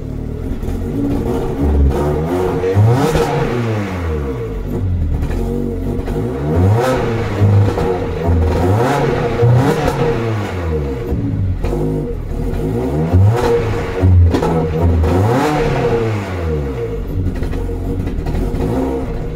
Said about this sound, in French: Un petit coup de gaz.